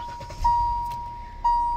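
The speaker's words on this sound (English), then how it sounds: "and as we turn the engine on" A Kia Rio 1.25 five-door hatchback powering on, with a steady electronic tone sounding alone and close, pausing and then resuming a moment later over a low cabin hum.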